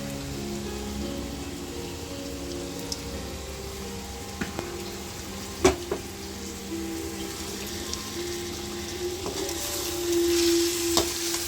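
Prawn masala fries in a pan with golden-brown onions, a steady close sizzle and crackle like rain on a surface, with a few sharp clinks of a utensil against the pan.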